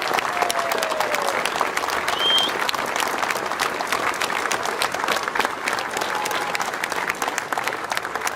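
Steady applause from a crowd welcoming the previous year's OLS club at a festive homecoming in Nederweert, a sustained blend of many hands with a brief whistle rising above it.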